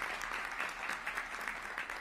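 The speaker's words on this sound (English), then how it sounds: "Can we give them a round of applause, please?" Brief, steady round of clapping from an event audience at a gathering with the Illinois governor, fairly soft and continuous.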